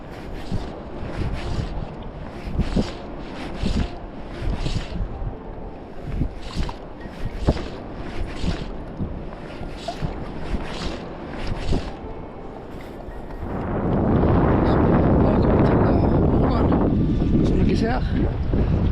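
Strong winter wind buffets the microphone during sea trout fishing on a snowy coast, with gusty bursts through the first half and then a loud, steady roar of wind and surf; someone talks briefly under it.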